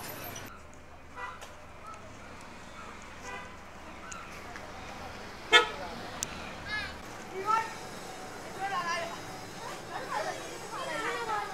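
Street traffic in Hlaing township, Myanmar, murmurs in the distance with scattered short car horn toots and one sharper honk midway, plus faint chatter and background noise.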